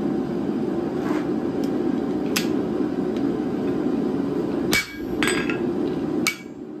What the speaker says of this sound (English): I'm going to go ahead and use my guillotine tool here to mark that inch